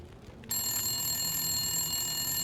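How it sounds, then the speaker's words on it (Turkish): A telephone in the video game The Long Dark starts ringing abruptly with a steady, sustained electronic tone, loud and close, over low room noise. "Telefonu aç diyor."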